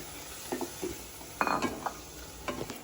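Masala being sautéed in oil with a splash of water in a pan for a prawn and kochur loti dish, a low sizzle under scraping stirs and occasional clinks of a utensil against the pan, close and without talk.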